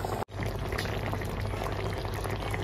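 A pot of gravy with potatoes and prawns boils with a continuous bubbling simmer, close and steady, after a brief sharp dropout at the start; no talking.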